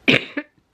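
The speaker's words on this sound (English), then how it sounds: "oh, I knew I was gonna cough." A single short cough from a woman with a respiratory infection and asthma, close and loud, followed by a smaller second burst, then silence.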